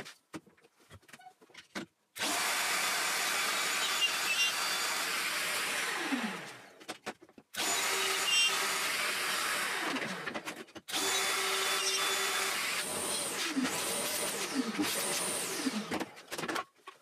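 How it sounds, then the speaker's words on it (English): A loose tenon jig guides a router cutting a tight mortise into a board edge, giving loud, steady whirring runs in three bursts with short pauses between them. "I'm using the small face of the jig to cut a tight mortise on the edges"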